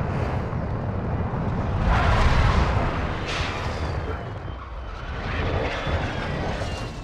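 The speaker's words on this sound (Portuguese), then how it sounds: "Eu acho que aquele helicóptero é player" Helicopter in the video game Armored Royale, a loud continuous rotor and engine roar with swelling surges and explosive booms mixed in, a voice speaking briefly.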